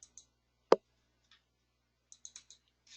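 A computer mouse gives one sharp, close click, followed a bit later by a few faint, quick clicks and light taps in a quiet room.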